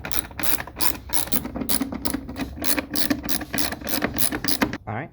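A 1/4 inch ratchet with an extension clicks quickly while loosening long air filter screws on a Ford Focus RS, with crisp, evenly repeated pawl ticks close up and a brief scrape at the end.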